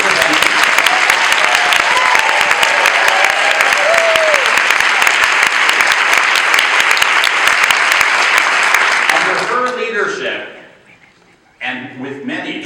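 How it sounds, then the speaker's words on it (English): Loud sustained applause from a conference audience greeting a Surgeon General, a thick unbroken clatter of many hands for about nine seconds that then fades under someone speaking. "So let's give a round of applause to the 18th Surgeon General of the United States, Dr. Bastien."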